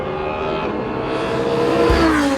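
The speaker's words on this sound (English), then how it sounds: "when you hear the car, the V10, there's no other sound like the V10" Audi R8 LMS GT2 race car with a V10 engine, roaring loudly and steadily up close for the whole stretch, its pitch climbing then sweeping down near the end as it shifts or passes.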